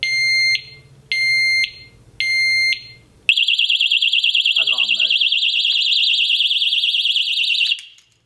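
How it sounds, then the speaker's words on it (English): A piercing 120-decibel electronic alarm from a Kovix KOL motorcycle lever lock wails continuously after three short loud beeps, with a brief low voice murmuring underneath partway through. "that's, again, the 120 decibel alarm unit on this one"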